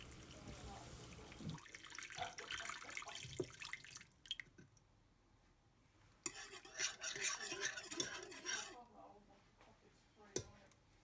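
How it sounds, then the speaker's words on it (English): Beef stock pours from a carton into a Ninja Foodi pot for a keto beef stew, with irregular splashing and gurgling bursts of liquid separated by brief quiet gaps, and faint talk in the background. "now we're going to add in our beef stock"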